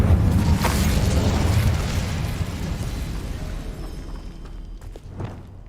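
A fire spell cast in the game Hogwarts Legacy: a loud roaring burst that flares up at once, then slowly fades as a crackling rumble, with a smaller flare of fire near the end.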